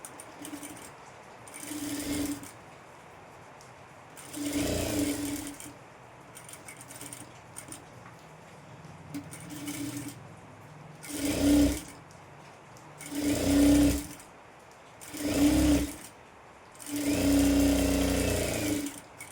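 Sewing machine stitching a designer boat-neck blouse, running in short repeated bursts of a few seconds each, separated by quieter pauses filled with faint handling noise.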